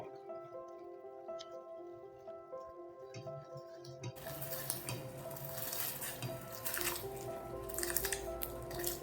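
Soaked rice is poured into a cooking pan with spices for palak pulao. A wet, squishy rush and clatter starts about halfway through and keeps going, loud and close, over a quieter kitchen background.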